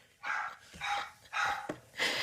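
Dogs barking indoors in a living room, a run of four loud, close barks in steady succession.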